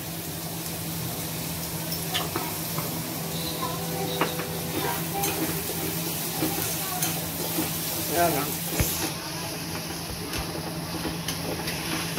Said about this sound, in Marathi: मिक्स करते जोपर्यंत ऑनियन कांद्याचा कलर गोल्डन न होत तोपर्यंत करणार ना मम्मा